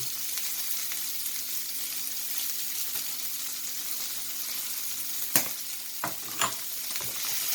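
Smoked mackerel seasoned with black pepper and a little chili sizzles steadily in a frying pan. A few sharp clinks and scrapes from a utensil come near the end.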